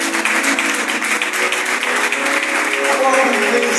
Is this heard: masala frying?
no